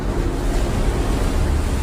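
Huge ocean waves in a movie tsunami scene give a loud, constant, churning roar of water and wind. No voices come through it.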